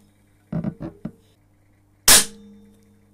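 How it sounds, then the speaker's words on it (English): A BSA R10 air rifle fires a JSB Knockout .43 grain slug in one sharp, loud crack with a short tail. A brief voice speaks just before the shot, over a low steady hum. "But 10 shots then, through the BSA R10, and we'll see what kind of energy it's putting out."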